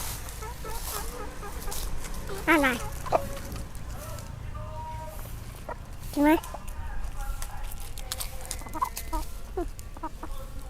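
Farm chickens cluck and squawk in short bursts while being offered food, several sharp calls standing out near the microphone amid ongoing talk from an adult and a child.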